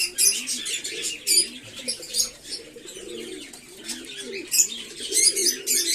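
Pigeons coo softly and close by during a night feeding, with wings flapping and brief chirps mixed in, in a steady, busy flurry.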